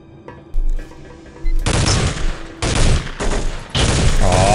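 Loud bursts of gunfire from the shooter game Soldier of Fortune II: Double Helix, several dense volleys with brief gaps between them, close and harsh, with no talking.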